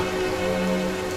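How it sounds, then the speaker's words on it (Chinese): Steady rain falls throughout a short stretch outdoors in a period drama setting, a dense even patter with a faint low hum underneath and no voices. "行了，下雨了，准备撤了"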